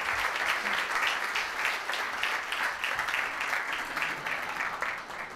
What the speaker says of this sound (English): let's applaud Eugene